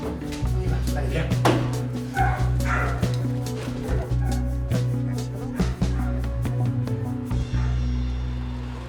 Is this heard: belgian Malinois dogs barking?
yes